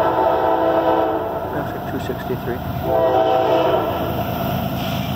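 Loud CSX westbound intermodal freight train passing close with its horn blaring, wheels and cars rumbling underneath, a brief remark spoken over the noise.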